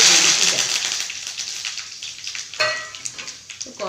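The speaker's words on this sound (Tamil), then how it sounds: "அதனால் கொஞ்சம் எண்ணெய் அதிகமாக ஊற்றி கொஞ்சம் கருவேப்பிலை ஊற்றிட்டேன்" Curry leaves fry in hot oil with a bright, loud crackling sizzle that settles into a lighter spatter, broken by a few sharp pops and stirring clinks.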